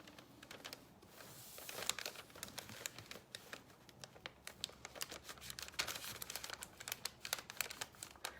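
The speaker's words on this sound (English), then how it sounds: "And then I'll take my scissors and go back and cut it." Crisp, irregular snips and crinkles of paper being cut, close up, with rustling between cuts and no voices.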